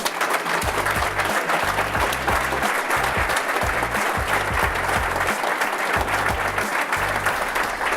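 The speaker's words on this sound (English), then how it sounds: "I'd like to give them a round of applause." Steady round of applause from an audience at a live product expo for craftsmen, continuous clapping at even loudness throughout with a low hum beneath and no clear talk over it.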